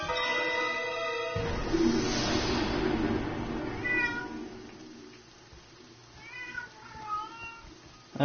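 A cat meows inside a video game, with a long, loud, wavering cry early on followed by a few shorter, fainter mews later against a quiet background.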